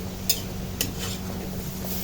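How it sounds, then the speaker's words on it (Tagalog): Spare ribs being stirred in a cooking pot, giving a couple of sharp metallic scrapes and clinks against a steady low background hum, with no voices. "So, haluin na lang natin."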